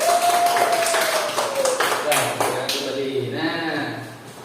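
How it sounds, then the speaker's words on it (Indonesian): Children in a classroom clap for a classmate, a brief burst of uneven hand claps amid a teacher's speech and room chatter. "Tepuk tangan untuk Anissa"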